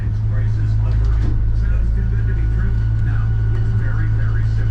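Twin Yamaha F150 outboard engines on a 2023 Stabicraft 2250 WT boat run with a steady, loud low drone and hum throughout, carrying water and wind noise, while someone talks over it.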